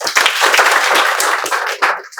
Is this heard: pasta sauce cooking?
no